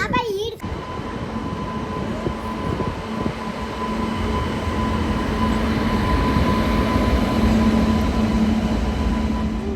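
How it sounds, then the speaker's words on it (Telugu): A train rolls along with a steady low rumble and faint wheel whine throughout, with people talking over the noise. "ట్రైను ట్రైన్ మళ్ళీ మూవ్ అవుతుంది"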